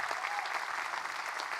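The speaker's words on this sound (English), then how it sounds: "Give him a big round of applause up there" An audience at a Friday night live music show applauds the volunteer sound man, with steady dense clapping held at an even level throughout.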